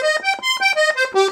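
Red vintage Hohner Verdi I piano accordion with one treble register of two reeds tuned MM, playing a short run of sustained, reedy chord notes that shift quickly, close and fairly loud with no talking.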